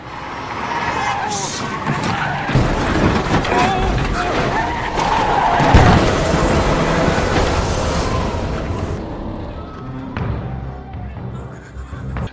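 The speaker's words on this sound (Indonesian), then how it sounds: "Pada saat naik bis, kecelakaan terjadi." A bus crashes in a film scene, with loud continuous skidding and crashing noise that fills the whole stretch, dense and close, with impacts and a rumbling roar before it thins out near the end.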